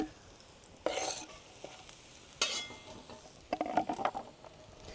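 Garlic hits a hot pan while cooking filling for lamb gozleme, giving a soft sizzle with a few sharp bursts and stirring scrapes, close and fairly quiet, no talk.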